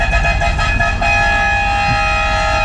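A car horn sounds loudly and holds in one long sustained blast after a brief break, close by at a rodeo, with engine rumble underneath.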